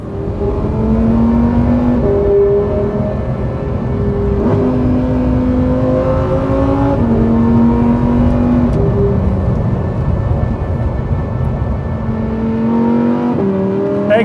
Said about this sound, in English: a love letter to the glory, the majesty of a naturally aspirated V10 engine, which means now it's time to drive